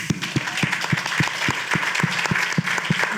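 An audience at a short-film festival discussion applauding a father in attendance, loud, close, sustained clapping with a regular thumping beat running through the dense patter.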